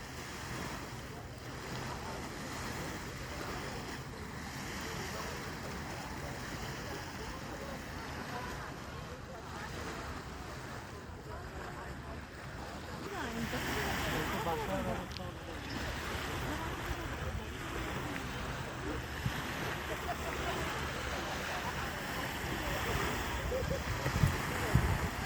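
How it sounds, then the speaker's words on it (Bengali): Small waves lap steadily along the Lake Ontario shore on a calm afternoon, a continuous soft wash with light wind noise, growing slightly louder toward the end while a voice talks faintly. "আজকে লেকে ঢেউ কম।"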